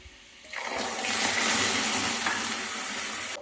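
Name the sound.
water added to hot pan while cooking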